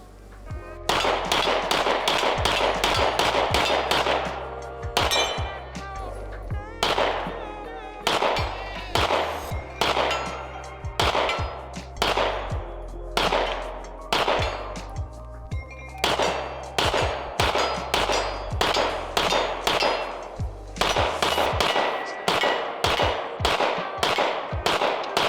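Rapid strings of pistol shots from a SIG handgun with its factory trigger, fired loud and close in quick bursts with short pauses between strings, no talking over them.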